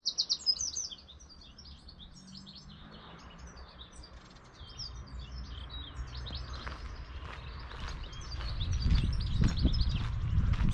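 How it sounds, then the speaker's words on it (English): Bright bird chirps and tweets ring out, strongest at the start, over a low outdoor rumble that grows louder toward the end. "Something really calming about listening to the birds."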